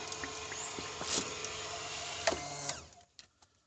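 A Hitachi water pump runs with water flowing, a steady mechanical hum and churning hiss with a few clicks and knocks, then cuts out near the end leaving brief faint taps.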